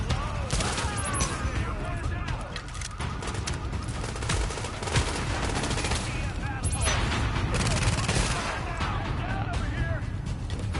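Sustained automatic gunfire from the shooter game The Division crackles throughout as heavy overlapping bursts, with players talking over the shooting.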